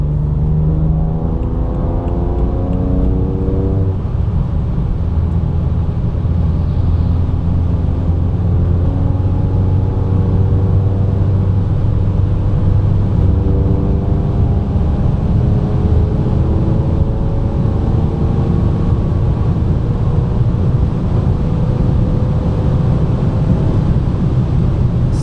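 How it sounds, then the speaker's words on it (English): A BMW E90 335i with the N54 engine revs steadily in fifth gear, a continuous droning engine note with rising harmonics throughout, heard close and alone without talk. "I give it fifth and rev a little bit more"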